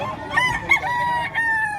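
A rooster, about 11 months old, crows close by at a chicken market in Batangas, one full loud crow lasting under two seconds.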